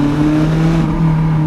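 A Lotus Elise engine runs loud and close during downshifts, giving a steady droning hum with a faint rise near the middle and no distinct separate throttle blips.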